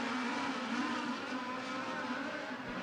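USAC midget race cars roar around Merced Speedway during a three-car fight, a continuous, fairly distant high-pitched engine whine from several cars blending together, with no speech.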